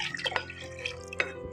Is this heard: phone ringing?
no